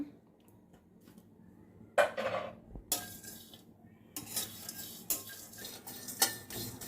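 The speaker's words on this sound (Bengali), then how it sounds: "এখন আমি মশলাগুলো টেলে নিব খোলায়" Whole spices, including star anise, dry-roast in a pan as they are stirred, giving intermittent close rattles, scrapes and light clinks against the metal over a quiet background.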